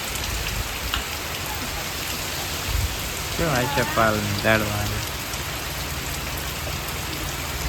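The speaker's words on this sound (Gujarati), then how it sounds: "તો મિત્રો વરસાદ જો" Rain falls steadily in a village in Botad, Gujarat, a constant close hiss that runs the whole time while a few people briefly talk over it midway.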